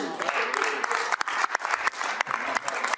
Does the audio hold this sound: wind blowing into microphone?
no